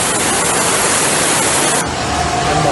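Deep floodwater from a typhoon in Luzon, Philippines, rushes past loudly as a dense, continuous roar, with no voices.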